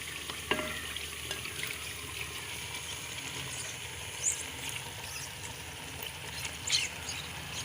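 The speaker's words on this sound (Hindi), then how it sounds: "अब हम इसमें डालेंगे ये चारों भिगी हुई दालें।" Soaked mixed lentils tip into fried masala in a cooking pot, giving a steady close sizzle with a couple of short splashy thumps as they land, alone with no talk.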